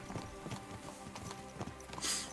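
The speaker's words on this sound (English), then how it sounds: "So, this has just become a horse riding simulator, apparently." Horse hooves clip-clopping at a steady riding pace in Kingdom Come Deliverance II, a quiet, close, rhythmic series of clops, heard alone.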